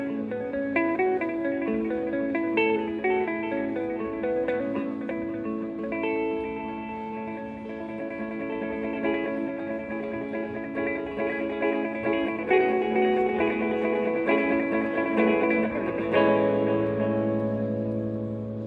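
Guitar through a Pigtronix delay pedal set for golden-ratio spaced repeats, clear picked melodic notes ringing over a soft pad of trailing echoes, steady and moderately quiet, with no voices.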